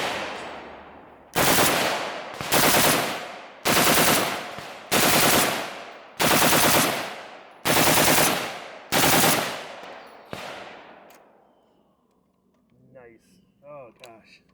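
Nine sharp, loud gunshots from a 5.56 AK rifle fitted with an FAL stock ring out in a slow, steady rhythm, each with a short decaying echo, followed by faint talk at the end.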